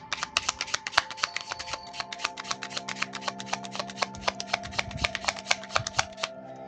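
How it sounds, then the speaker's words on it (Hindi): Tarot cards being shuffled by hand at close range, a dense run of crisp riffling card slaps in quick irregular rhythm throughout, with no talking. "And let me shuffle more."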